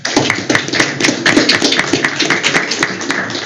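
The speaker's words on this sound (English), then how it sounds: "So let's just give all of our veterans a round of applause." Applause for veterans at a school board of education monthly meeting, a crowd clapping steadily and fairly loudly throughout, with scattered sharper claps close by.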